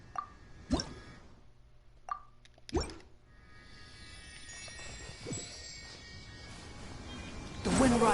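Water dripping in the video game Genshin Impact, a few separate plops and drips spaced out over quiet ambience, fairly close, ending in a louder splashy rush.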